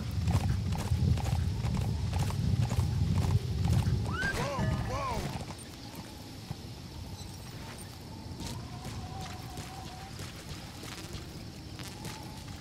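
Steady clip-clop of horse hooves trotting in Metal Gear Solid V: The Phantom Pain, with a brief whinny partway through, over a busy background of game ambience.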